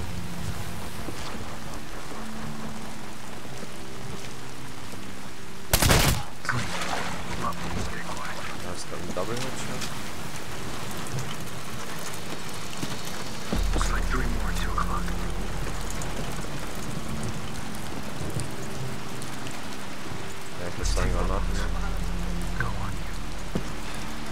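Rain and water ambience in the shooter game Medal of Honor: Warfighter, a steady hiss of falling rain with a sudden sharp crack and low rumbling surges, while players talk over it.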